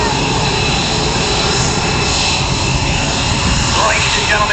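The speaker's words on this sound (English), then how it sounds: "Greg Bowe is flying the world's first ethanol-powered MX-2" An ethanol-powered MX-2 aerobatic airplane in sport aerobatic flight, a loud, steady engine drone that holds for several seconds with a faint rising whine toward the end.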